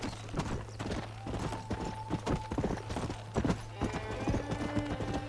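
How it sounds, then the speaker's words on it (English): Horse hooves clip-clop steadily at a trot in the Western game Red Dead Redemption, a rhythmic run of close, fairly loud hoofbeats over a constant low drone, with a brief whinny-like tone and faint game ambience. "Alright, let's get back on our horse."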